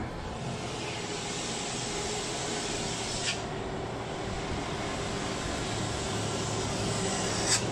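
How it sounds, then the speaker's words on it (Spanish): A bus coming downhill on a rural road using engine braking, a steady continuous drone heard from nearby with no voices. "Viene frenando puro motor el bus que llega hasta las pilas."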